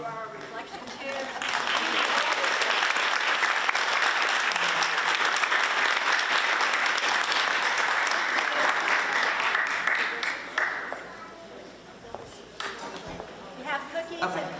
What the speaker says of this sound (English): give an extra round of applause to Pepper Downey and to Dana Moore